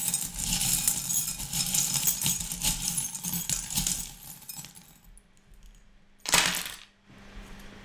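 Small metal divination charms cast onto a table for a reading, a long jangling clatter of many tiny pieces followed after a pause by a sharp clinking spill, close and loud.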